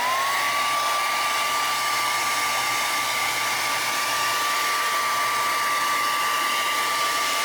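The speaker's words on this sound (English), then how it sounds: "All right, let me hit it with the dryer." A handheld dryer blows steadily at close range on a freshly hydro-dipped tumbler, a constant whooshing roar with a thin motor whine that rises briefly at the start and then holds.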